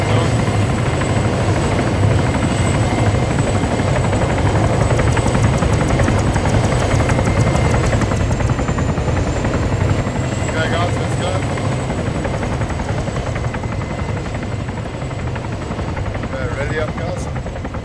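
A helicopter lands with a loud, steady rotor and engine roar that fills the whole stretch, holding constant throughout, while voices talk beneath it during a military-style reconnaissance exercise.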